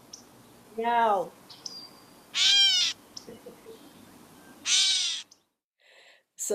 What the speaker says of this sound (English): So that sound gives them away that they're a catbird.